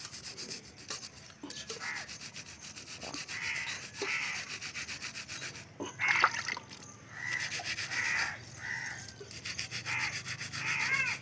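Silver anklets are rubbed clean with water, giving close, rhythmic scrubbing strokes mixed with small wet splashes and faint metallic clinks.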